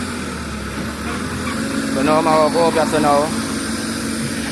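A tractor engine levelling land for a house site in Jamaica hums steadily in the background while someone talks over it.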